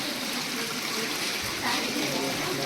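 Spring water flows at the Chashme Shahi garden in Srinagar, a steady rushing trickle up close that runs continuously under a faint background murmur.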